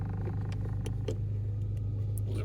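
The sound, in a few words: 2011 Chevrolet Cruze car engine running after start-up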